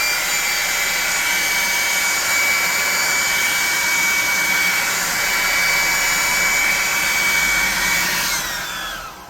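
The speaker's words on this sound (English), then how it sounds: "We're going to hit these with a hot air gun and a blow dryer." A hot air gun and a blow dryer run together to dry painted pieces of a primitive tabletop-game tower, a steady loud whooshing whine with a high tonal hum that holds nearly unchanged, then drops in pitch and fades at the end.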